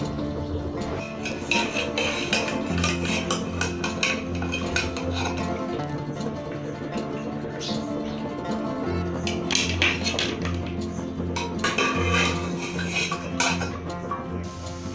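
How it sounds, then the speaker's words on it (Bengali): Beet and mutton are scooped out of an opened pressure cooker with a metal spoon while spices fry nearby. Steady close clinks and scrapes of metal on metal run throughout over a continuous low hum. "প্রেসার কুকারের ভেতর থেকে বিট আর মটন উঠিয়ে নেব।"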